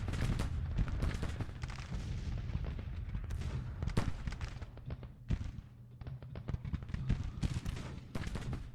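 Cannon and rifle fire rage in the Civil War strategy game Grand Tactician, with dense, overlapping booms and crackling volleys rolling continuously, loud and close, with no voices.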